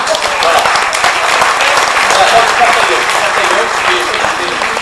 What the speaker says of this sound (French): Donc je vous demande de l'applaudir.